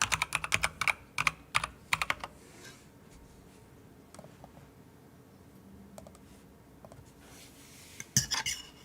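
Clicky keyboard typing sounds close and moderately loud, starting with quick bursts of keystrokes and tapering into sparse, faint clicks before a final short flurry of taps.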